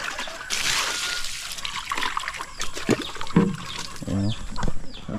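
Water from a farm tap trickles and splashes into a container in a continuous, uneven flow, with a voice briefly heard over it.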